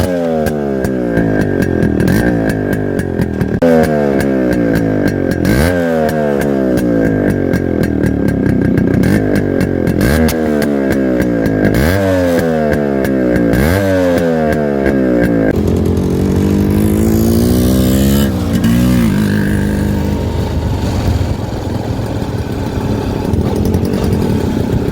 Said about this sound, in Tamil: த்ராட்டல் அதாவது நம்ம எக்ஸாஸ்ட் சவுண்டு பார்ப்போம்